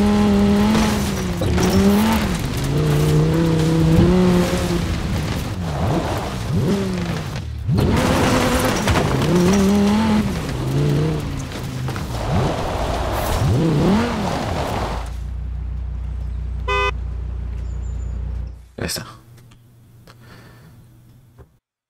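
A Cyberpunk-themed Quadra V-Tech car in Forza Horizon 4 drives with a steady engine drone and tire noise for about fifteen seconds, then the engine cuts to a low idle hum with a few clicks before fading out.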